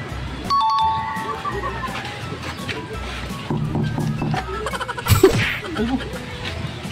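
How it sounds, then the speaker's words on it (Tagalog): A doorbell chimes a couple of bright tones early on, followed by a stretch of ambient room noise, a clatter and a sneeze-like burst. A voice talks in the background. "Doorbell. May doorbell naman pala."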